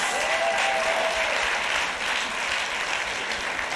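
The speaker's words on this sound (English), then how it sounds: "And then Frankie does the slow clap to her." Steady applause from a crowd, sustained without pause; individual claps blur together rather than sounding like one person's slow, spaced clapping.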